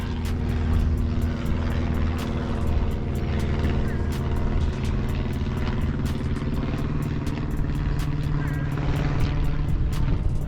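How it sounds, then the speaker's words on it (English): A propeller airplane drones steadily overhead during a fishing outing on the water, a continuous engine hum under sharp intermittent clicks and brief talk. "There's the cool plane."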